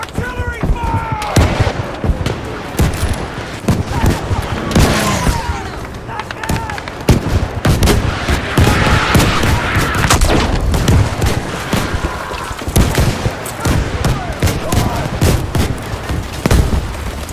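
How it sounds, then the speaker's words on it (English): Artillery and gunfire crash through a chaotic Battlefield V Breakthrough battle, a loud, dense stream of blasts and shots with shouted voices mixed in throughout. "Artillery fire!"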